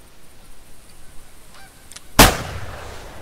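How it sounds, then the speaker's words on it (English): Geese in the hunting game The Hunter 2014 give a sudden loud burst of honking and wingbeats as they take off, after a quiet stretch with faint distant calls. "And all the geese were coming down."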